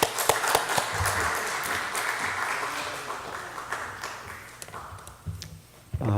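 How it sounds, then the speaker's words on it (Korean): Audience applause welcoming a lecturer onto the stage at a Korean lecture event, with sustained dense clapping for about five seconds that fades out, then a brief fresh burst near the end. "힘찬 박수로 환영해 주시기 바랍니다"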